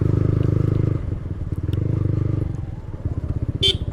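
A motorcycle being ridden on the road, its engine close and loud with a fast pulsing exhaust beat that eases as the revs drop, while a rider's voice comes in briefly.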